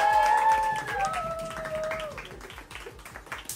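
An audience applauds to welcome a new singer at a team presentation, steady dense clapping throughout while musical tones and a brief voice sound over it, fairly loud and close.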